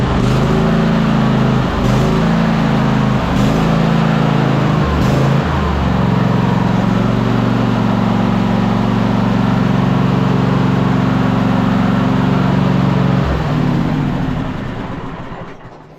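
Cub Cadet Super LT 1550 lawn tractor engine runs steadily and loud with the mower blades engaged, a labored drone with a few brief dips and surges before it eases off at the very end.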